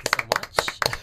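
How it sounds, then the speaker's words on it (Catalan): A few pairs of hands clap in a sharp, close rhythm of about four beats, more like a brief patter than a full crowd ovation. "Merci, un aplaudiment també."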